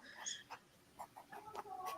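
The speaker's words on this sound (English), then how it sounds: "Still hear the chicken clucking." A chicken clucks faintly in the background of a home indoor space, giving a few short, scattered clucks over about two seconds with no talking.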